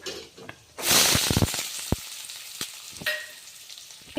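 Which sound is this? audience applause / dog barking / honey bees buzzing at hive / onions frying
onions frying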